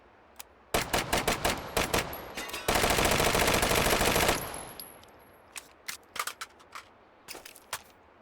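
A Beretta CX4 carbine fires at a range, starting with a rapid string of sharp, loud shots, then a dense sustained burst, then scattered single and paired shots with short gaps between them.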